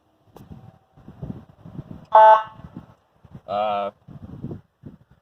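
Two short, loud electronic police siren tone bursts from a 2011 Ford Crown Victoria Police Interceptor, one after another, with people talking quietly in between.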